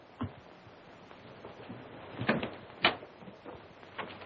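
A door opens as a father arrives in the 1935 film Scrooge, heard as a few soft wooden knocks and thumps, faint against a hissy old soundtrack with no talking.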